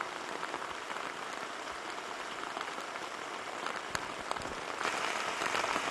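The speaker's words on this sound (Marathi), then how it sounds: "रत्नागिरीमध्ये पहाटेपासूनच पावसाची धुवाधार बॅटिंग सुरू आहे" Heavy rain pours down in Ratnagiri, a dense steady patter of drops on surfaces, moderately loud and continuous, swelling slightly toward the end, with no talking.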